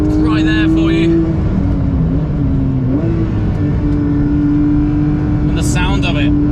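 A Porsche 992 GT3 engine revs hard through a corner, loud and close, its tone climbing and shifting as the car accelerates, with bursts of speech breaking in at the start and end.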